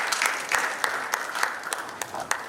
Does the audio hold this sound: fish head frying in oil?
no